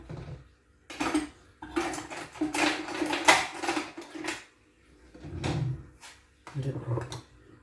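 Metal clinks and scrapes come from a cooking pot being handled and opened while making palputtu, in bursts mixed with someone talking nearby.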